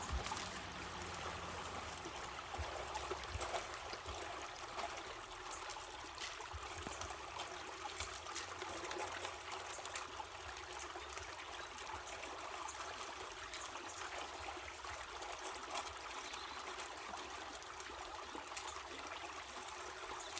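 A faint, steady rush of creek water flowing through a river sluice continues evenly with no voices or breaks.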